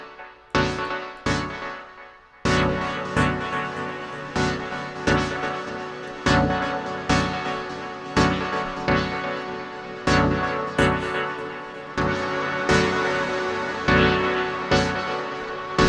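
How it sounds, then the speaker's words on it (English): Dub pad run through a reverb and delay feedback chain in Ableton Live, with sustained washy chords pulsing in a steady rhythm and long blooming tails that smear each stab into the next. It plays loud and unbroken, with no talk. "I've got a simple audio damage reverb here that I like because it's got a lot of bloom and tail on it"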